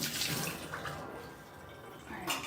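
Soft, steady running water from a kitchen sink tap while an item is rinsed, faint and hissing with slight splashing variations throughout.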